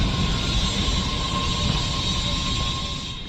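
A steady low rumble of an arriving Red Line subway train with a high whine, holding level then starting to fade slightly toward the end.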